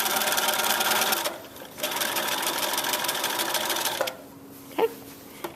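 A sewing machine runs close up, stitching the back seam of a pair of pajama pants, with two steady bursts of rapid mechanical whirring broken by short pauses and a faint click near the end.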